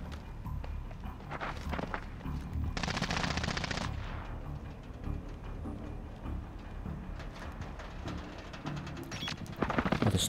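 AUG rifle bursts in the video game Call of Duty: Warzone, with rapid automatic fire in a few short volleys mixed with footsteps and movement noise, moderately loud amid a busy game soundscape.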